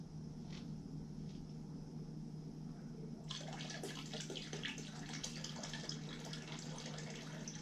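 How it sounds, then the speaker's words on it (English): Cold water runs from a tap into a basin for bleaching flannel shirts, a faint steady flow under a low hum that swells into louder splashing partway through. "And make sure it's cold water, ice cold water if you can."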